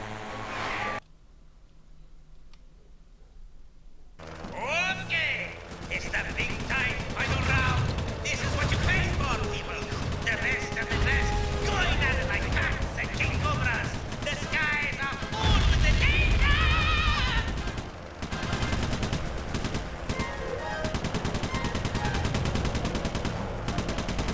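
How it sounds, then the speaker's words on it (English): Gunfire in the Sly 3 video game aimed at the Black Baron, with rapid bursts of shots and explosive game effects under music, loud and dense after a quiet opening, while a voice talks over it. "Shoot the Black Baron"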